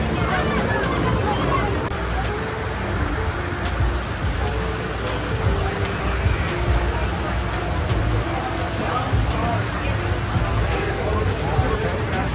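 Steady heavy rain pours down during a Formula Drift event at Irwindale, a continuous hiss of drops hitting surfaces, with a crowd murmuring and voices talking underneath throughout.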